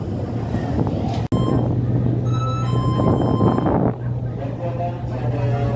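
Ferry ship crossing the strait from Gilimanuk to Ketapang, a steady low engine drone with wind buffeting and sea wash around the deck, a sharp bump near the start and faint tonal sounds midway, no clear talk.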